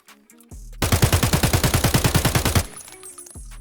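An AK-74N assault rifle in the shooter game Escape From Tarkov fires one loud, close full-auto burst of about twenty rapid, evenly spaced shots lasting roughly two seconds. The burst stops abruptly and a short echoing tail follows.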